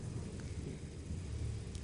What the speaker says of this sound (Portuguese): Esse barulho que vocês estão escutando é chuva, é trovão.